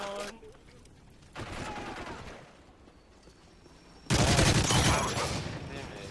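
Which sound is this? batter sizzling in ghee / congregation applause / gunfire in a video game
gunfire in a video game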